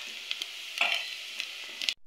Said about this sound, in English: Make sure your onions are golden brown before adding anything else.